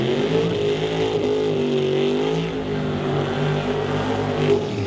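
Dan Golby's Mustang drag race car accelerates hard at the T&T Motorsports West Coast Classic in Mission, BC, giving a loud, sustained engine roar whose pitch sweeps steadily through the run.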